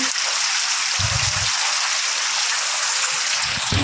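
Rain falls steadily as a dense, even hiss that lasts throughout, with a few soft low thumps mixed in.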